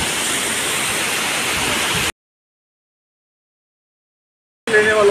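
Waterfall near Badrinath temple in icy, sub-zero Himalayan conditions: dense broadband rushing water roars steadily for about two seconds, cuts to complete silence, then returns briefly with rougher noise.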